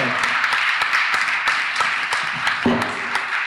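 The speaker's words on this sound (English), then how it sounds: "Let's give a round of applause, please, to Mr. Paul Bristow." An audience at a mayoral question time event gives a light round of applause, scattered individual claps sounding moderately close over a soft room background.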